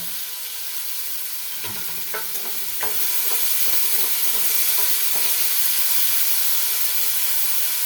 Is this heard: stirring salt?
yes